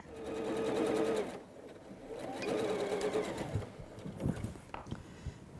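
A sewing machine stitches a quilt block seam for a decorative wall hanging, running in steady whirring bursts: a long run, a pause, another long run, then a few short stop-start stitches, close and clear with no talk.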